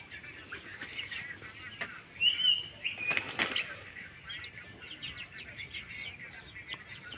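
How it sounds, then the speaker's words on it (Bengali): Thirty-eight young tiger chickens, about one month and twenty days old, flap their wings in a coop, a faint fluttering with scattered soft chirps and clucks over a low background hiss. "এখানে 38 পিস মুরগির বাচ্চা, তাদের বয়স 1 মাস 20 দিন।"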